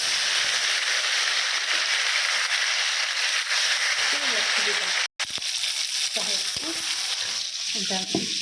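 Tomato dropped into hot oil in a pan for coconut egg curry, a loud steady sizzle with crackling spatter, followed by a brief cut and stirring scrapes as a voice talks over it.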